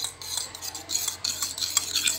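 Homemade clay mixed in a bowl with glycerin added, producing rapid, rhythmic scraping and clicking strokes of a utensil against the bowl, close and continuous with short pauses.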